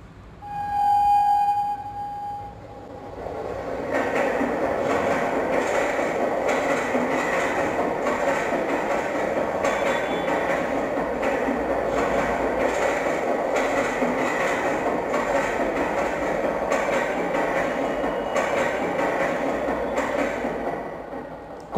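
Railway train running on the tracks, a steady rhythmic clatter and rumble of wheels sustained for a long stretch, preceded by a short high whistle-like tone, with no voices.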